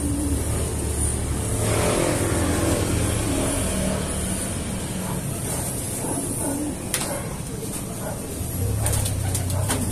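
Jansen racing pigeons coo in soft, repeated low calls near the listener, under a constant background hum and a passing car engine revving, with faint clicks scattered through.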